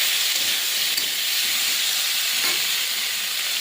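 Cut shrimp tipped all at once into hot oil with five-spice seeds, a loud, dense, steady hiss of frying that holds unbroken from start to end, no voices.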